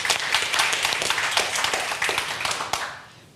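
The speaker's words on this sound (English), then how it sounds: "let's start with a round of applause for Siebert Media team" A conference audience claps together in a sustained round of applause, crisp individual hand claps blending into a dense patter that tapers off at the end.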